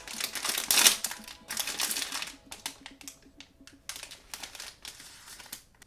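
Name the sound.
tearing open Pop Mart blind box packaging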